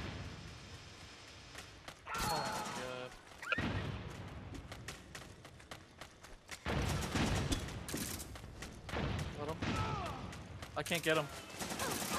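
Rapid gunfire bursts and volleys from the online shooter Metal Gear Online 2 crackle throughout, with louder clusters near the middle and end, while a player talks over the shooting.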